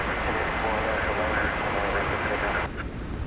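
A Frontier airliner arriving from Las Vegas roars past at DFW Airport at night, a loud, continuous engine rumble and broadband rush that dips slightly near the end.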